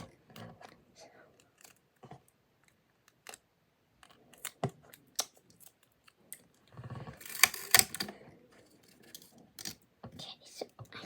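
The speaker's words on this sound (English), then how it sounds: "I'm going to cut those little bits off" Scissors snipping excess bits off a homemade pop-it craft, a scattered series of quiet, sharp clicks and snips with small handling rustles and a denser burst near the middle.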